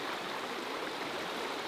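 A river in Sumatra, Indonesia rushes past at a crossing on a hiking trail, a constant broad wash of flowing water, fairly close, with no voices.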